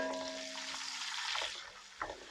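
Chopped garlic sizzling and frying in hot oil in a pan for Kerala-style kappa biryani, a steady close hiss with faint stirring scrapes and a soft clink near the end.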